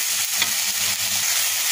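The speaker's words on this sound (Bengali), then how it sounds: "এখন এটাকে ভালোভাবে কষিয়ে নেব।" Ground spice paste with tomato sauce sizzles hard in a hot pan while being stirred, a dense continuous frying hiss with soft scraping, close and loud throughout.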